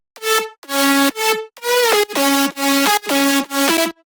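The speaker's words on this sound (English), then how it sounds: "But glide notes gives it more emotion." Bright future house synth lead playing a melodic phrase of about eight sustained notes, several bending smoothly into the next pitch with portamento glides; loud, close and alone with no voices.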